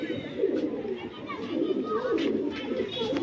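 A Lohkhande pigeon coos in soft, low, rolling bursts that run close and steady, with faint background noise around them.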